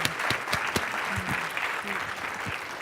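An audience at a spiritual gathering applauds to welcome a speaker to the stage, with steady, sustained clapping filling the room and a few sharper claps standing out near the front.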